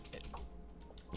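Fingers typing a short folder name on a computer keyboard, a quick cluster of soft, close key clicks at low level, with no one speaking.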